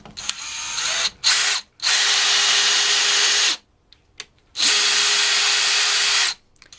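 A DeWalt DCD796 hammer drill drives a small screw in close, loud bursts: a couple of short whirring pulses, then two longer sustained high-pitched runs separated by a pause of near silence.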